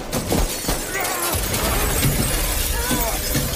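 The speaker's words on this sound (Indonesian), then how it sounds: "terlebih dahulu menembak kaca yang diinjak oleh Zura" Glass shattering after a gunshot in a film action scene, a dense, loud burst of breaking and scattering glass lasting several seconds and mixed with other noisy action sounds.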